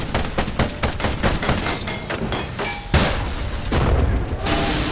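An ironclad in the game Ironcast fires weapons at enemy armour, a rapid volley of loud cracking shots followed by heavier booming impacts and rumbling explosions.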